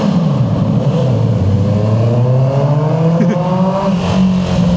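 A Honda CB650R motorcycle revs hard inside a tunnel, its engine note rising and falling in loud, continuous sweeps with strong reverberant echo and no talking.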